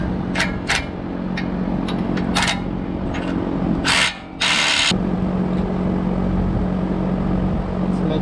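A wrench works lug nuts onto the hub of a Lexus GX470, holding the brake rotor while the caliper goes on: several quick ratcheting clicks up close, then a louder burst of mechanical whirring over steady background hum.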